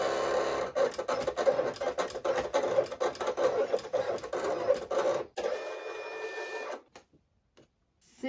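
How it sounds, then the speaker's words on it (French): A Silhouette Cameo cutting machine cuts out a letter B, its blade carriage whirring and scratching in rapid back-and-forth strokes for about five seconds before slowing, stopping, and falling nearly silent. "Je lance le test pour ma découpe de ma lettre B."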